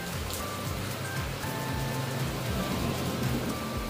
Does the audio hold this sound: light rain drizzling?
yes